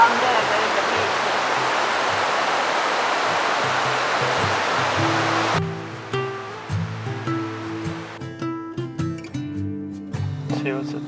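Water at Springbrook natural bridge in a national park, a loud steady roar of flowing water that cuts off abruptly partway, leaving quieter broken sounds and a few faint tones.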